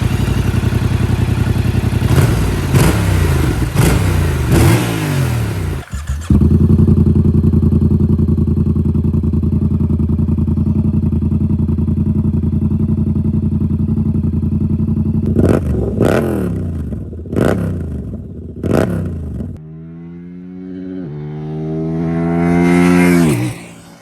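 A 2026 Yamaha R7 motorcycle's exhaust revs close by, idling with a deep rumble, then blipped in sharp repeated throttle bursts and a final rising rev, loud and alone.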